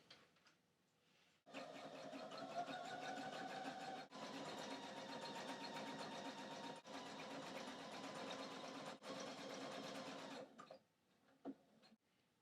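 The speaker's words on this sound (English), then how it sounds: "So I'm just going to put this in my sewing machine." A sewing machine stitching a straight or zigzag line on a skirt runs steadily in a continuous mechanical whir with brief pauses, stopping and restarting a few times, close by and fairly loud.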